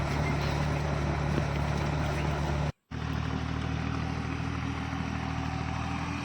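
A 70 hp tractor drives a Shaktiman rotavator through a banana field, mulching with a steady, loud engine drone and rough clatter that drops out for a moment before resuming.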